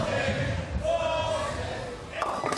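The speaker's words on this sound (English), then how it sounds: "And the crowd chants, ball change." Bowling crowd chanting at the PBA Playoffs quarterfinals, a rhythmic mass chant under a commentator's voice, with a sharp clatter near the end.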